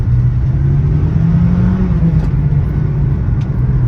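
A 2004 Acura RSX, a light front-wheel-drive car fitted with a lowering kit, pulling away in first gear; a loud, close engine drone climbs gradually in pitch and then levels off, steady throughout with no voices.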